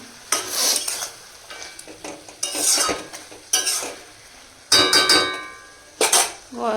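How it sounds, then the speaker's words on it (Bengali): Fenugreek and radhuni seeds are tempered in hot oil, crackling in short bursts of sizzle with intermittent clatter from utensils. "এটার মধ্যে ফোড়ন দিয়েছি মেথি আর রাঁধুনি"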